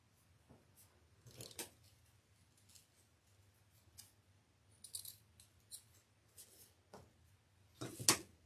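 Scissors snip evergreen branches for a St. Patrick's Day wreath, close and quiet, a string of separate crisp cuts and rustles with the sharpest snip near the end.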